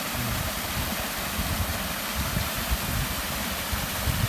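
At the Sky Lagoon, a waterfall pours as a steady, dense rushing hiss that fills the whole space evenly and without pause, close and fairly loud, with no voices over it.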